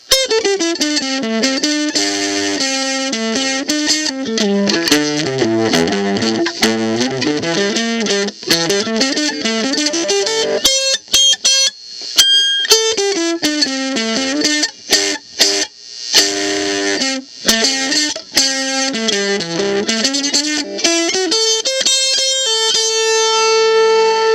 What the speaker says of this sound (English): it's quite the distortion box